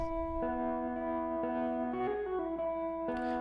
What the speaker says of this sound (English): Without like the without all this like space processing, sounds pretty dull.